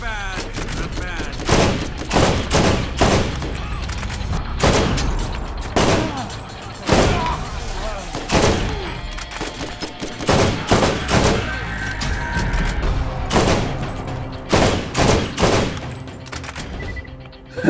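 Rapid bursts of gunfire in Borderlands, loud and dense, with repeated volleys and launcher-like thumps spread across the whole stretch, a few brief pauses between salvos.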